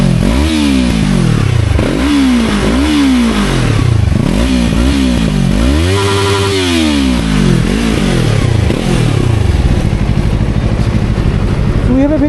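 Yamaha R3 twin-cylinder sport motorcycle revved repeatedly, its exhaust rising and falling in sharp loud bursts close to the microphone, with a longer climb near the middle before settling to a steady idle.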